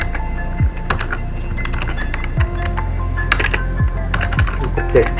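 Rapid, close typing on a computer keyboard while writing Unity code for a Flappy Bird game, with irregular clicks and key taps, several heavier presses, and a steady low hum beneath.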